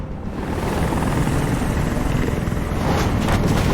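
Helicopter rotor in the Detroit: Become Human video game, a steady loud broadband whir with thumping low end that holds throughout, with no voices.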